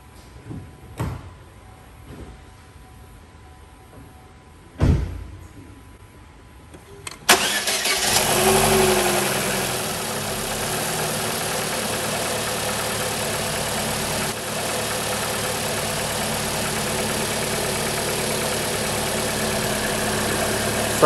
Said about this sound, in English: Engine started quickly, it's idling smooth